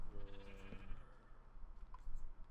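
A sheep in a Minecraft modpack lets out one short bleat, with a faint second game sound after it, over a quiet background and no talk.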